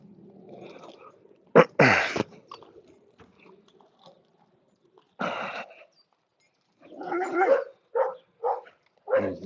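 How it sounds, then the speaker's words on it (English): Dogs bark near a broken gate, a few sharp close barks followed after a pause by a quick run of shorter yaps, with quiet shuffling in between. "There's the doggies"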